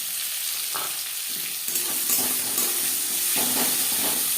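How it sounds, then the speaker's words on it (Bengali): Chopped onion added to hot oil with fried whole cumin seeds, giving a loud, steady sizzle and hiss with a few stirring scrapes, close by. "জিরে ভেজে নেওয়ার পর দিয়ে দেবো পেঁয়াজ কুচি"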